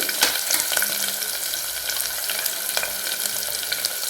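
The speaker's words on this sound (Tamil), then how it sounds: "இப்போ வெங்காயம், தக்காளி எல்லாத்தையும் போட்டு வதக்க போகிறேன். வெங்காயம் போட்டாச்சு" Onions sauté in a pan for an idli dal, giving a steady, close frying sizzle with intermittent stirring clicks throughout.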